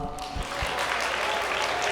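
Wedding guests applaud in a grand ballroom at the Grand Mercure hotel in Changwon, a dense, steady wash of many hands clapping that swells after a few isolated claps and holds loud to the end.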